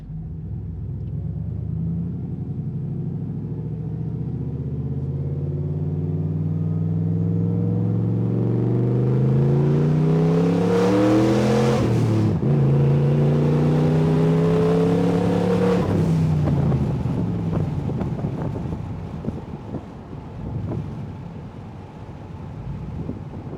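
Rear-wheel-drive LS turbo Pontiac Grand Prix accelerating hard through the gears, engine roaring as it climbs in pitch, then dropping at each shift, heard from inside the car with wind noise and no talking.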